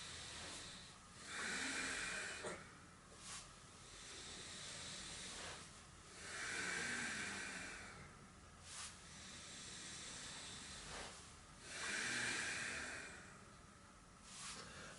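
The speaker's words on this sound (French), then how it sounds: "j'accrois l'expiration en venant appuyer avec ma cuisse sur l'abdomen" Slow, forceful breaths during a yoga movement, long airy hissing exhalations repeating at a calm, even pace, close and fairly quiet, with no speech.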